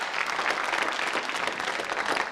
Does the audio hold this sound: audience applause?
yes